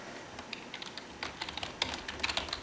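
Rapid clicks from a computer keyboard as someone types a search, coming in irregular bursts that grow denser and louder toward the end, with no talk.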